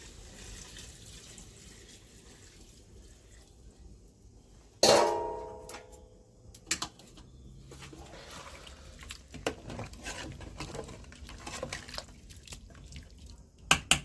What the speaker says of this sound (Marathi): जे आपण पाणी शिजवायला ठेवलेलं ते पाणी आपण चिकन मध्ये टाकू